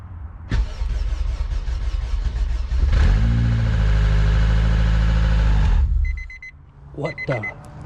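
A K20-swapped Honda Civic wagon cranks and fires at once, settling into a loud, steady idle close by before cutting off, followed by brief clatter and a few short voice sounds.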